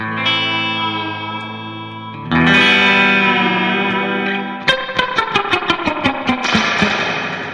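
Electric guitar through a Fender Twin Reverb amp with effects, first sustained chords, then a run of rapid, regularly pulsing chopped notes as the tremolo kicks in, loud and alone.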